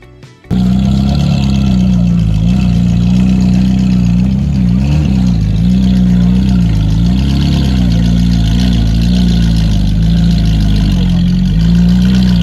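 A Ferrari 812 Competizione's 6.5-liter V12 runs loud and steady close by, revving up to 9,500 RPM, its pitch rising and falling with revs, a deep throaty roar throughout.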